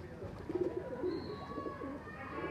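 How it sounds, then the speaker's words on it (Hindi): Low, soft cooing from a male pigeon in a quiet sunny outdoor setting, a few muffled throaty coos with faint background hiss. "ये जनाब दूसरा एक कबूतर आ गया"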